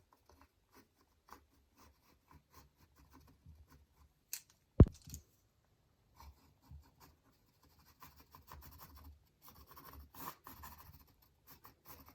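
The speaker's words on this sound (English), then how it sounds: "First I'm making a sketch of the mountains" A pencil scratches across canvas while sketching mountains for an acrylic painting, with soft intermittent strokes, one sharp tap midway, then denser scratchy scribbling near the end, quiet and close.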